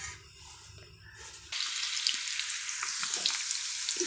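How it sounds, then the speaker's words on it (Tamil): Marinated prawns dropped into hot oil for deep frying, a soft bubbling start that jumps into loud, steady sizzling. "அந்த ப்ரானை ஊற வச்சுருந்தேன்னா அதை இப்போது கொஞ்சம் டீப் ஃப்ரை பண்ணிக்கிறேன்"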